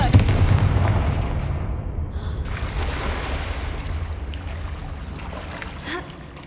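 A Confringo explosive spell blast in Hogwarts Legacy: a loud, booming burst right at the start that rolls off into a long, rumbling wash of debris and echo, fading slowly with a brief thud near the end.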